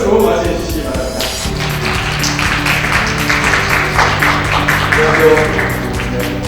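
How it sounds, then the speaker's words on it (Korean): An audience at a forum lecture applauding to welcome a speaker, dense steady clapping filling the hall from start to finish, with a voice sounding underneath. "큰 박수로 맞이해 주시기 바랍니다"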